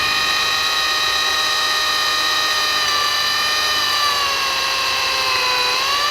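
A power drill whines steadily and loudly, its pitch dipping slightly as it bites into metal on an IO360 aircraft engine part, with no voices.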